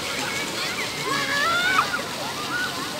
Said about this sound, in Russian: Такой фонтанчик.